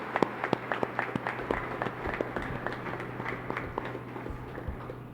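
Scattered clapping from an audience welcoming the President of the Philippines at a Davao Region declaration ceremony: sparse, uneven claps over a steady low hum, fairly distant and modest in volume.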